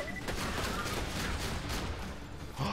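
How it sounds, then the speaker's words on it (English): Rapid, closely spaced shotgun blasts from a fast-firing shotgun in Borderlands 2, a dense continuous volley heard fairly quietly with a slight swell near the end. "I like this shotgun. It's like kind of accurate, and it's also fast firing"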